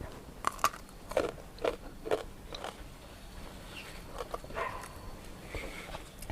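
Several crisp, close bites into a chilled, crunchy red peach, about five sharp crunches in quick succession followed by softer chewing, quiet and alone without talk.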